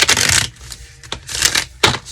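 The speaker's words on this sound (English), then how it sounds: "I'm gonna shuffle these cards" Tarot cards being shuffled close up: bursts of crisp riffling and flicking in short runs, separated by brief quiet gaps, with no talking over them.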